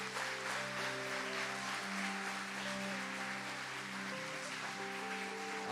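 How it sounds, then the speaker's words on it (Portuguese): A church congregation applauds, a soft, continuous patter of clapping under sustained organ-like music chords that fill the space throughout. "Dá uma salva de palmas ao Senhor"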